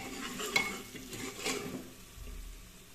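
A spoon scraping and stirring turmeric powder into onions in a pan while cooking chicken curry, with a few soft metallic clinks and a light sizzle underneath, quiet and close.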